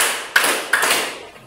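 Group clap game during a teacher training class break: two sharp, loud claps in unison, evenly spaced, each ringing briefly in the room.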